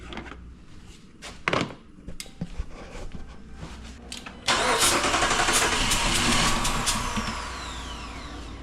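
A retired police car that had run out of fuel cranks with stuttering engine noise, then catches midway and settles into a loud, steady idle that tapers slightly toward the end; close by, no talking.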